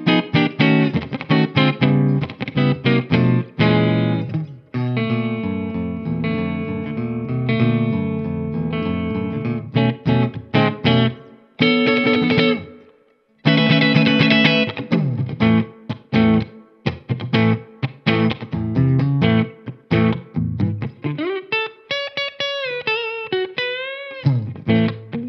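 An inexpensive electric guitar from 2022 played through heavy distortion, with loud strummed chords and riffs, a brief pause partway through and bending lead notes toward the end, with no voices.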